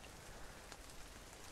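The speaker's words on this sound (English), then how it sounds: "I'm currently sat underneath a holly bush, sheltering from the rain." Rain patters steadily on a holly bush in a continuous, even hiss of dense drops, fairly quiet and close, with no voices.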